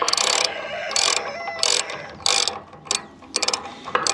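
A wrench ratchets on a 1 1/8 inch nut on the gearbox shaft of a New Holland 260 rake, the oil-soaked nut coming loose easily, giving about eight sharp bursts of close metallic clicking in an irregular rhythm with brief pauses between strokes.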